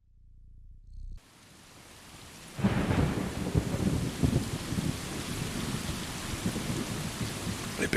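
Heavy rain pours steadily on a stormy night in the video game Stray, with a deep thunder rumble rolling in after a quiet opening second and continuing beneath the loud, dense downpour.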